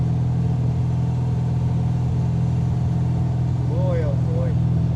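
Steady engine rumble from a 1980 Chevy Camaro Z28 restomod with a gear drive, heard from inside the car, loud and continuous throughout, with a brief higher tonal sweep near the end.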